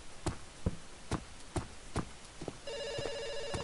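A telephone rings in the horror video game White Night: sharp repeated rings in an even rhythm, then a sustained electronic ringing tone, clear and alone in a quiet scene.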